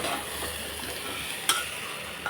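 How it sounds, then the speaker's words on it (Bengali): Semolina fries with dal, rice and vegetables in a pan, a steady close sizzle broken by the scrape of stirring and one sharp clink of a utensil. "আজকে যেহেতু অল্প সুজি, তাই আমি একেবারে ডাল চালের সাথে ভেজে নিলাম।"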